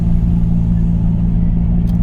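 A 2012 Ford Fusion with a 2.5L engine and Magnaflow exhaust drones steadily from inside the cabin while driving, a loud, continuous low rumble holding an even pitch throughout.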